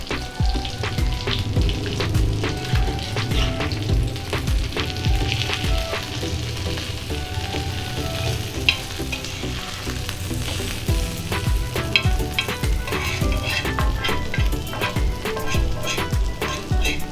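Oats-coated fish fries loudly in a pan after being turned to its other side, a dense steady sizzle with occasional scraping and stirring clicks running throughout, close and uninterrupted by any talk.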